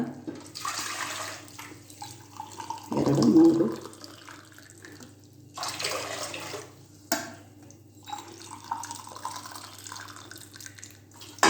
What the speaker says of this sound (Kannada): ಇಲ್ಲಿ ನೋಡಿ, ನಾನು 4 ಲೋಟ ನೀರು ಹಾಕ್ತಾಯಿದ್ದೀನಿ